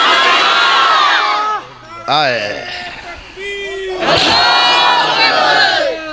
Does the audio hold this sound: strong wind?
no